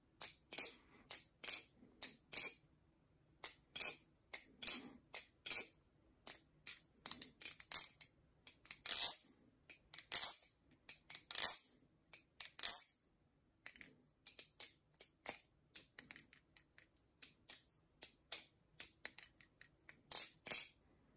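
An LDY Orion trainer yo-yo, oiled after a week of use: a long run of sharp, close clicks and snaps in irregular bursts, some isolated and some in quick clusters, with no talk.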